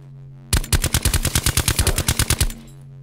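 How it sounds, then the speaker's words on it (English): Automatic gunfire in Call of Duty Black Ops 4 battle royale, a rapid close burst of about fifteen evenly spaced shots lasting two seconds, loud and alone against a low background hum. "If you keep shooting like that, you're in trouble."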